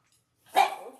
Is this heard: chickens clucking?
no